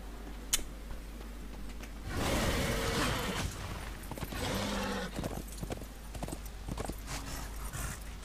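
Horse hooves galloping through desert in the Darksiders video game, a fast rhythmic clip-clop that runs continuously over a whooshing background, with a brief voice at the start.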